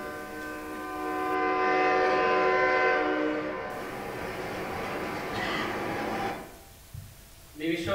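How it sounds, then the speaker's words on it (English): A train passes near a residential neighbourhood in Queensborough, its horn sounding loud for several seconds over the rumble of the cars before the sound fades and a voice breaks in at the end. "who here enjoys train whistles running through the neighborhood?"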